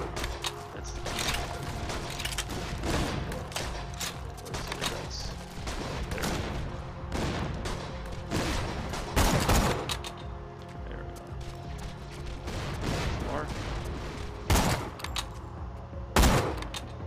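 Dense gunfire from the video game Borderlands 2 fills the passage: rapid bursts and single shots keep coming, with a few heavier blasts standing out, loud and continuous, with no voices over it.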